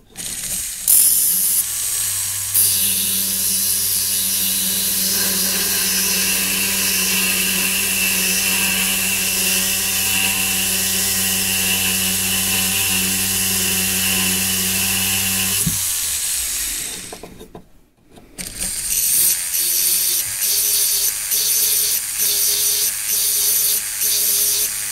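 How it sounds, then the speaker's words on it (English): A rotary tool fitted with a snap-on disc whines loudly and steadily while sharpening the edge of a small wax-carving tool, with a brief pause and dip before it starts up again and keeps grinding. "Now I'll go in with my snap-on disc and sharpen up that edge."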